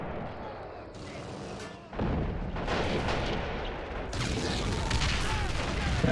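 Artillery fires at infantry in the World War II strategy video game Men of War. The battle roars in dense, continuous booms and rumbling blasts, with a sharp jump in intensity around two seconds and heavy fire that goes on throughout.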